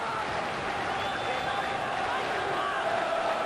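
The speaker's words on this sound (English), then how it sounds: "Terrific noise around the manor ground" Football crowd noise at the Manor Ground, Oxford, during an FA Cup match against Chelsea: a steady, dense roar of the stadium crowd with a commentator talking over it.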